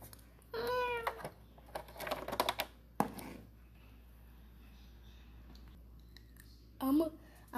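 A cat meows a few times near a vehicle, the short cries scattered among clicks, rustles and brief human voices in a quiet setting.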